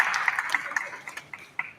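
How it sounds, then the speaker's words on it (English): An audience at a community pitch contest gives contestants a short burst of scattered clapping, moderately close, fading slightly over under two seconds. "Give them another round of applause."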